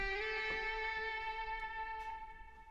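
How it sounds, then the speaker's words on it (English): Sustained guitar tone from a deep house production, a bright harmonic note held for nearly three seconds with faint plucked attacks over it, alone without voices. "Firstly, another guitar sound."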